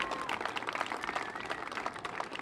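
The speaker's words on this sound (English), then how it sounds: "So let's give them a big round of applause as well." An audience applauding in a theater for helpers who lent scaffolding: a dense, continuous patter of many hands clapping at moderate distance, steady for the whole stretch with no voices standing out.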